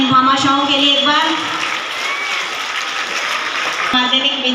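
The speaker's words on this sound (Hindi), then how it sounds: "तो जोरदार तालियां इन भामाशाहों के लिए एक बार।" A crowd at a school Independence Day celebration claps for donors, a steady mid-level patter running under a speaking voice that fades in and out over the clapping.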